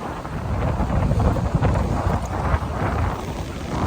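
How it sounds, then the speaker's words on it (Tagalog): Strong gusting wind roars and buffets loudly against the microphone, a broad rushing noise that swells and surges without pause. "Masyadong malakas na ang hangin."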